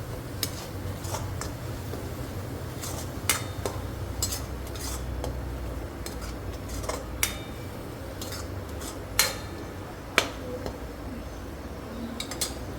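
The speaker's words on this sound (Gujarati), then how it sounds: "તેને બી સરસ રીતે મિક્સ કરી દઈશું." A spoon scrapes and clinks against a pan while pav bhaji ingredients are stirred together, giving irregular sharp metallic taps over a low background hum.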